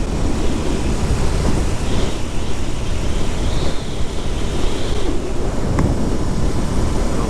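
A Royal Enfield Interceptor 650 motorcycle cruises steadily at highway speed, a constant engine drone buried under heavy wind rush with no letup.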